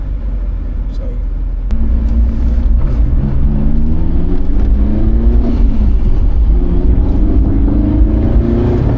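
A supercharged Honda S2000 engine roars loudly and steadily nearby, its pitch rising through repeated gear pulls during a quarter-mile acceleration run.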